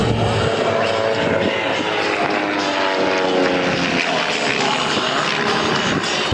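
A propeller aerobatic airplane performing at the Duluth air show roars loudly and steadily with a droning engine tone throughout.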